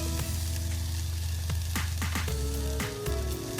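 Chopped garlic and grated ginger sizzle loudly in a cast iron pot, a continuous crackling hiss with a few sharp stirring scrapes and knocks, and no voices.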